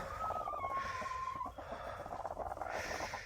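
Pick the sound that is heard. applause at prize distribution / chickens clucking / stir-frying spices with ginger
chickens clucking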